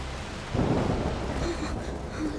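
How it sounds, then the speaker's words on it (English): Steady rain hiss with a low rumble of thunder swelling in about halfway through, fairly close and continuous, no voices, in the video game A Plague Tale: Requiem. "The rain is getting worse."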